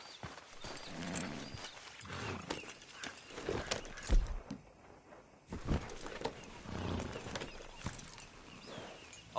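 Horse galloping in the video game Red Dead Redemption 2, a fast rumbling run of hoofbeats with rustling and clatter, loud and close, broken by a short quieter gap before the gallop resumes.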